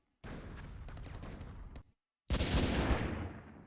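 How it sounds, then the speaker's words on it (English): Dreadnought warships fire their guns in a turn-based space strategy game, two dense bursts of booming, rumbling fire, the first about a second and a half long, then a short gap and a louder, harsher second volley. "Let's do all 3 dreadnoughts shooting there really quickly."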